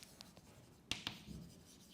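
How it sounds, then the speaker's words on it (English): Chalk or marker strokes on a board during a general relativity lecture, a few quiet scratches followed by two sharp taps, faint and close in a hushed room. "So let me write here"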